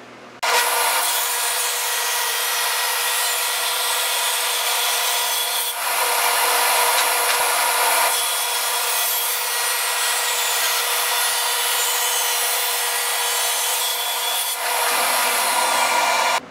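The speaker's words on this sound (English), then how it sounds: "First thing I'll do is cut the maple and the mesquite into strips of about" A power saw rips maple and mesquite boards into strips in a woodshop, a loud continuous cutting roar that starts abruptly, runs steadily with a few brief dips, then winds down near the end.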